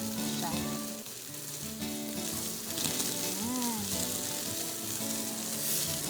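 Chicken sizzles and crackles steadily in a frying pan for honey garlic chicken, a dense, continuous fry noise with faint background tones and no talking.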